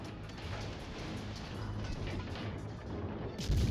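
Naval battle in World of Warships Legends with ship guns firing into smoke: continuous dense rumble of distant booms and crashes, a heavier blast near the end.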